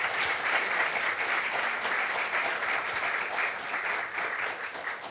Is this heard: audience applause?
yes